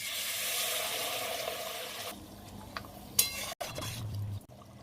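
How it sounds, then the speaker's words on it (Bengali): Hot water pours into a pan of frying potatoes and spices, a loud hissing rush at first that settles into softer bubbling, with a clink of a utensil and a brief spoon scrape near the end. "আর এবার জল দিয়ে দেবো। জল দিয়ে দিলাম, গরম জল।"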